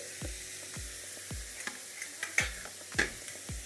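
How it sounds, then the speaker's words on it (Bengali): Tomatoes and three green chillies frying in a pan, a soft sizzle beneath a series of low thumps and scraping stirs at a slow, uneven pace. "এখন দিয়ে দিচ্ছি টমেটো আর 3টে কাঁচা লঙ্কা। এগুলো একটু ভালো করে ভেজে নেব।"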